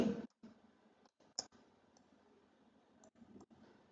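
Computer mouse clicks while working in 3D modeling software, a few faint, sharp, isolated ticks spread across quiet room tone.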